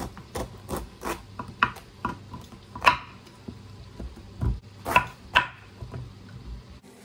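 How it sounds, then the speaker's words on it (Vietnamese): Knife cutting an old, homegrown bottle gourd on a board for soup, giving irregular close chops and scraping rubs, some sharp knocks, fairly quiet with no talk. "Bây giờ thì sẽ cắt bầu nấu canh"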